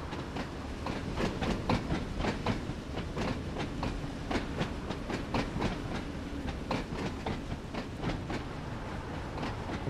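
A simulated train from Train Sim World 2 runs slowly along rails on the Isle of Wight line, with steady rumbling and repeated clickety-clack wheel beats over rail joints at moderate volume, without speech.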